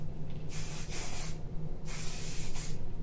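Hair styling spray hisses from an aerosol can in two long bursts, each lasting nearly a second with a short gap between, close to the mic during a wash day routine on transitioning relaxed hair.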